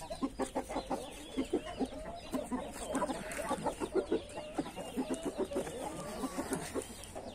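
Indian gamecock rooster and hens cluck steadily on a hot day, a dense run of short, close, rhythmic clucks with occasional higher calls overlapping throughout, with no talking.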